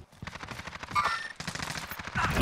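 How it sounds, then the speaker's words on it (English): Rapid automatic gunfire in Call of Duty: Warzone, a fast rattling string of shots in two bursts, loud and close, building toward the end. "Oh, I'm getting shot at."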